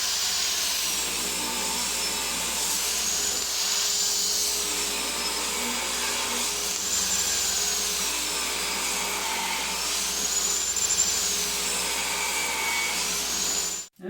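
A table saw rips wood into 2.5-inch strips for a small tealight holder, its steady loud whine swelling slightly as each pass is cut, with the blade spinning down at the very end and no talk.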